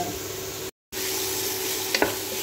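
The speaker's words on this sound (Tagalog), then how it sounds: "Haluin lang muna natin siya ng maigi" Marinated meat coated in spices fries in a pan with a loud, dense sizzle, cut by a brief gap, then a couple of spoon scrapes as it is stirred.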